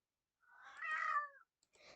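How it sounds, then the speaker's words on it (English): A house cat lets out one drawn-out, fairly clear meow close by in a quiet room, then a brief softer trailing sound, with no talking. "Sorry, that's just my cat."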